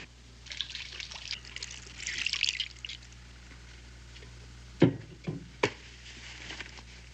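Water trickles and dribbles steadily, with a few sharper splashes and knocks toward the end.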